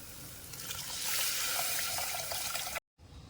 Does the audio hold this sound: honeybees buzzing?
no